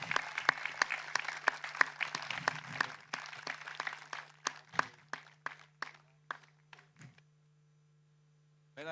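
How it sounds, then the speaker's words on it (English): Audience applause at a season-opening presentation evening, a burst of dense clapping that thins into scattered individual claps and then fades to silence. "A round of applause, please."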